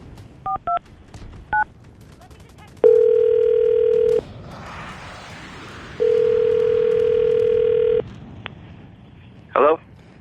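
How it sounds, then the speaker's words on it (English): A telephone call being placed: several short touch-tone dialing beeps, then two long steady tones with a pause between them, ending with a brief burst of noise. "I'm going to call him right now,"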